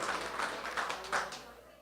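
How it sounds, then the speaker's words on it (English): A small studio audience claps briefly for a guest, a Hogs hockey defenseman, on a Bud Light Hog Talk show, with a few quick, faint hand claps fading out within two seconds. "Let's give a nice round of applause to Clendo."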